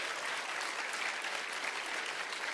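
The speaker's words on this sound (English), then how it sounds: "Let's have a round of applause for Paul." An audience applauding after a talk, dense sustained clapping from many hands filling the room evenly throughout, with no voices.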